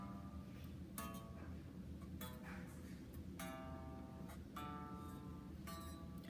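Guitar picking the first six notes of a major scale, every other note across the strings, as six evenly spaced single plucked notes that ring out faintly over a steady low background hum.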